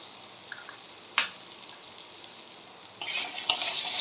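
Soybean curry with salt, turmeric and Kashmiri chilli powder stir-fried in a pan: a faint steady sizzle, one sharp scrape early on, then a louder burst of scraping stirring near the end, with no voices.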